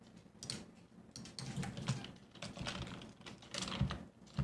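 Rapid typing on a computer keyboard, a dense run of quick clicking keystrokes in irregular bursts, close and clear with no talking.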